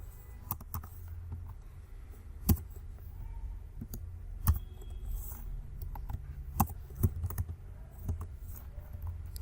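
Computer keyboard keys click in a quick, uneven patter while React code is typed, with a few louder, sharper key strikes standing out over a low room hum.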